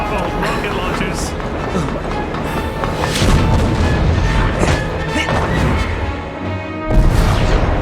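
Rocket launcher blasts in the action game Crisis Core Final Fantasy VII Reunion, several booming hits mixed with dense game music and effects, loud throughout with a stronger burst near the end; someone talks over it.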